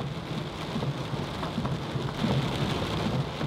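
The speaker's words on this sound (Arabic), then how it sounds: "شهدنا أول عاصفة مطرية استوائية في كوستاريكا" Heavy tropical downpour in Costa Rica with rumbling thunder, a dense steady hiss of rain on surfaces that holds loud and continuous throughout, with low thunder rolling underneath and no voices.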